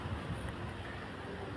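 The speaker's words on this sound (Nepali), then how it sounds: "हावा चलिरहेछ।" Steady wind blowing outdoors in mild weather, a continuous broadband rush with gentle gusting and microphone buffeting throughout, no voices.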